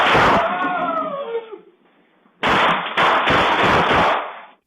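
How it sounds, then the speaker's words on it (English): Dozens of gunshots fired at a home in Rockford: after a brief voice and a pause, a rapid, loud, close volley of sharp cracks bursts out for about two seconds. "Dozens of gunshots ring out at a Rockford home"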